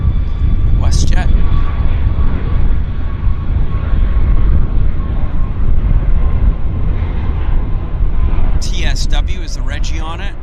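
A WestJet airliner's jet engines roar steadily at Vancouver airport, a broad loud rumble held throughout, with brief voices or chirps near the start and end.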